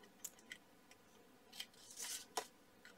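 Scissors snip pointy edges off a handmade paper circle card, a few short, crisp cuts spaced irregularly, close and fairly quiet with no talk.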